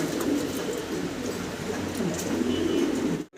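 German Beauty Homer pigeons cooing steadily and close by at a pigeon seller's loft, with low, rolling coos repeating throughout and no speech over them.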